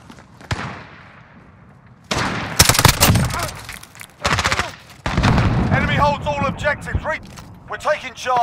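Game explosions and rapid gunfire crackle through a tactical shooter firefight, with heavy bursts and booms from a thrown grenade, while voice callouts and chatter sit over the combat.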